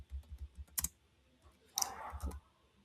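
Computer keyboard keys click in two quick bursts of typing, an event description being entered, with short pauses between clusters of taps; close, fairly quiet, no talking.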